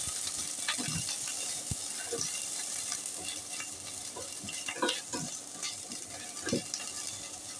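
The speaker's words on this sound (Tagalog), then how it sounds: "Magigisa na tayo" Onions sizzle steadily as they are sautéed in an oiled pan, the base for a bottle gourd (upo) and chicken dish, with scattered clinks and scrapes from stirring and no voices.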